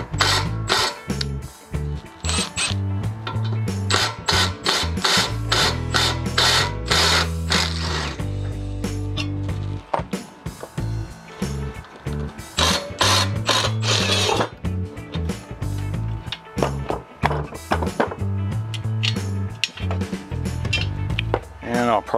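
Blade being removed from a Honda rear-wheel-drive mower, with rapid ratchet clicks and metallic tool rattling in continuous bursts, close and loud, one or two short pauses, a voice speaking briefly over it.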